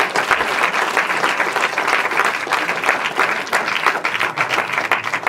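Audience applause fills a hall at a film premiere screening, a dense, steady wash of many hands clapping close and loud for the whole stretch, with no voices over it.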